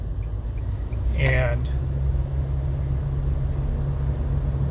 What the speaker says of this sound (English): There is engine noise